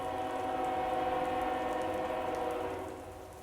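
A train rolling through a river valley in the American Truck Simulator driving game near Thompson Falls, Montana, a steady rumbling wash with a layered mechanical hum that holds level before easing off toward the end.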